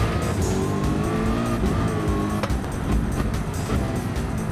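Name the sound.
racing car engine and tire squeal in the video game Gran Turismo 7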